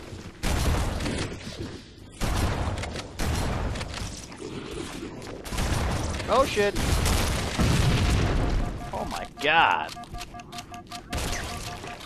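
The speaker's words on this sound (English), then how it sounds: "The sheer number of explosions going on was ridiculous." Repeated booming explosions and bursts of fire from a frantic firefight in the Halo Anniversary video game, loud and near, with a person talking and exclaiming over the blasts throughout.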